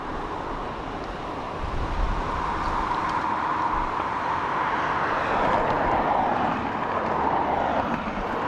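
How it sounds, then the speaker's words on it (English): An ATR 72-600 turboprop airliner arrives at Dublin Airport from Glasgow, a steady broadband engine roar heard from a distance that swells gradually and holds throughout, mixed with faint wind. "So EI5, little ATR coming in from Glasgow next, an ATR"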